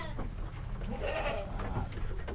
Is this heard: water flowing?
no